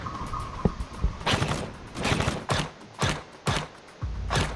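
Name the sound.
gunfire from enemies in a video game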